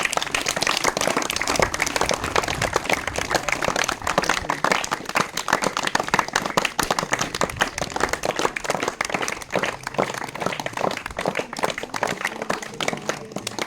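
A crowd claps loudly and steadily to honour SSC toppers, a dense, continuous burst of applause from many hands that holds at full strength throughout.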